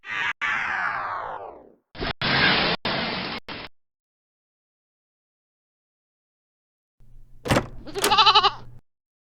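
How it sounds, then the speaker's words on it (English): A farm goat bleats in several bursts: a long wavering cry, then choppy bleats with short gaps, and after a pause a louder, quavering bleat, all close and clear with no talking. "Goat."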